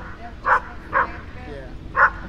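A dog barks outdoors near a house in a gated community, three separate mid-distance barks spaced unevenly over a low background hum.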